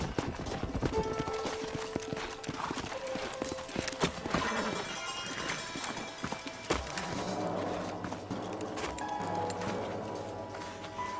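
Horses' hooves clip-clop on hard ground in Red Dead Redemption, with a whinny and some stamping, set against an ambient game soundscape with faint voices in the background.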